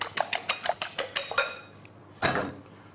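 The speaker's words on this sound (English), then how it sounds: "Whisk up your eggs" Eggs being whisked in a bowl for an omelette, a quick series of bright metallic taps and clinks for about a second and a half, then a pause and one louder scraping clatter, with no one talking.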